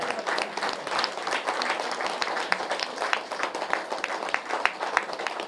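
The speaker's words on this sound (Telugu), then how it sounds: "గట్టిగా చప్పట్లు కొడదాం." A crowd at a channel launch gathering claps in a brisk, dense, fairly close burst of applause with irregular sharp hand smacks, continuing throughout with a few faint voices underneath.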